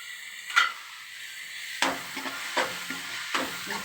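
Spice powder stirred and sautéed in a home frying pan for fried rice: a few scraping, tapping strokes of a spoon against the pan over a low sizzle, spaced unevenly and close by.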